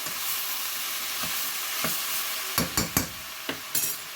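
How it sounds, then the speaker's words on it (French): Vegetables tossed with spices in a hot pan give a close, steady sizzle, joined near the end by several sharp scraping knocks of a utensil against the pan. "j'ai bien mélangé les légumes avec les épices"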